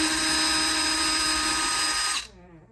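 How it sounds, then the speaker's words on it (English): Cordless power drill running steadily in reverse, backing out the screws of a door handle on an electronic keypad lock, a continuous high whine lasting about two seconds before cutting off abruptly. "we'll go ahead and use our drill, and you want to put it in reverse"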